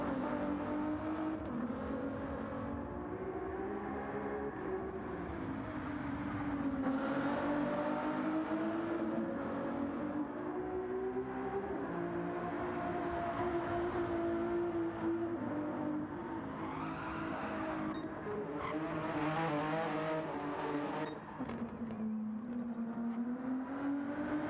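Engine of the number 4 Ferrari GTE race car on the Nürburgring in a racing video game, a loud continuous high-revving drone that rises and falls through gear changes for the whole stretch, with no talk over it.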